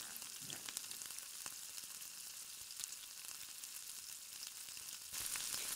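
Bay leaf and panch phoron frying in hot mustard oil in a kadai, a faint, even hiss with occasional small crackles, growing slightly brighter near the end, with no talking.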